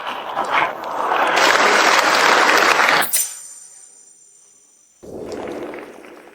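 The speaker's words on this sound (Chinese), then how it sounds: "现在，让我们掌声欢迎第一位小琴手登场。" Audience applause for a young violinist taking the stage at an evening violin competition, a dense burst of clapping that stops abruptly, then a quiet gap before another shorter round of clapping.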